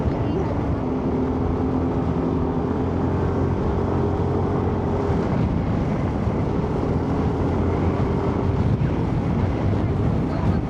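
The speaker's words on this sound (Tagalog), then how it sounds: "Lakas ng hangin dito." Steady, loud wind buffeting the microphone outdoors at a hillside camping site, a continuous low roar with no letup throughout.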